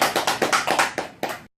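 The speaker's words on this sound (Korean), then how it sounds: "영광의 박수 올려드립니다." Church congregation applause after a prayer: a short run of quick, rhythmic claps lasting about a second and a half, fairly close and loud, then cutting off abruptly.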